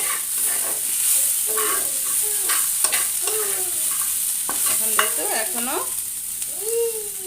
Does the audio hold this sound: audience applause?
no